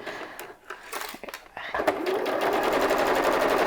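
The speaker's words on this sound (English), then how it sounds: "And then just sew along there." A sewing machine stitches fabric onto plastic, starting with a few short stop-start bursts before settling into a fast, continuous rattling run, close and clear.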